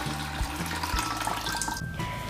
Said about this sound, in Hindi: तो इसका पानी हम सारा निकाल देंगे।